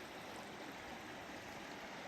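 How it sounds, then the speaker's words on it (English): A glacial river fed by melting ice in Alaska rushes steadily, a faint, distant, constant stream roar with no talk over it. "the river created by all that melting ice"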